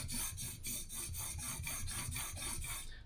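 Hand plane blade, from a Jorgensen #4, being stroked on a sharpening surface to add camber: a steady series of about ten rhythmic back-and-forth rubbing strokes, close and fairly quiet.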